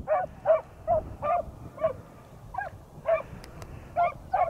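Beagles training for field trials bay repeatedly in the distance, a steady series of about ten short, rhythmic cries over faint outdoor background noise.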